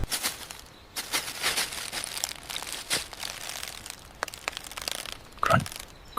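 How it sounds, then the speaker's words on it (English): Crunching and crinkling bursts, like dry debris or dirt being crushed, repeat irregularly over several seconds in a dark horror scene, with a sharper crack near the end; moderately close, with no talking. "Crunch."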